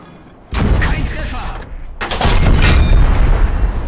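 Two heavy booming cannon blasts from a Panther tank in the video game Call to Arms: Panzer Elite, each followed by a rumbling tail, the second longer and louder.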